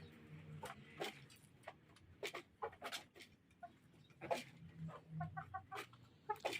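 Chickens and roosters on a small home poultry flock, with close, sharp clucks and short squawks arriving in irregular bursts, some quick repeated chatter and a low murmur of hens between the calls.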